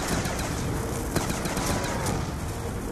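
Rapid gunfire from a zombie survival video game, dense and continuous bursts of shots filling the whole stretch with one sharper crack near the middle, fairly loud with no talking.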